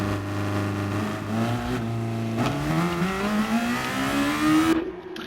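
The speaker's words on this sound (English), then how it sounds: "this is where I'd recommend a blip of the throttle to get going towards this corner" A race car engine in a racing video game revs with a quick throttle blip, then climbs steadily in pitch under acceleration before cutting off sharply at the end, loud and close.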